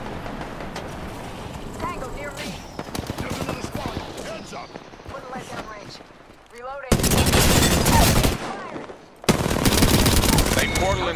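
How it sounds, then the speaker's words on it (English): Mortar fire and heavy gunfire in a shooting video game, dense sustained volleys swelling loud in the later half, with players talking over the blasts throughout. "They mortaring right here behind us."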